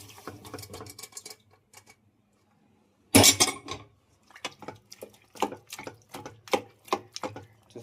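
Boiled mutton pieces drop into a cooking pot with a sudden wet clatter, then a run of soft, close, irregular thuds and splats as more pieces are added, with no oil in the pot.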